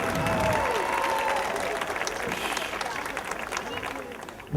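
Thunderous applause from an audience at an Independence Day celebration, a dense, steady wash of clapping that fades slightly over several seconds, with faint voices underneath.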